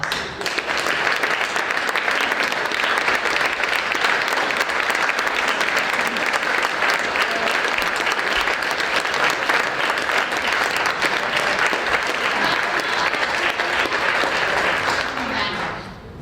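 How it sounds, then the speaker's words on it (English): An audience at a Hall of Fame awards luncheon breaks into sustained applause, dense continuous clapping from a large room that holds steady throughout before fading at the very end. "give yourselves a warm welcome of applause"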